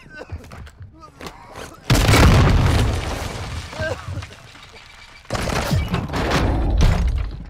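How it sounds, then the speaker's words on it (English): A Warzone grenade detonates with a heavy, close boom and debris rumble, and a second loud blast follows a few seconds later, while players' voices come through in the quieter gaps. "Grenade!"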